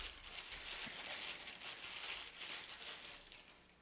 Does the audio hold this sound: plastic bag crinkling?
yes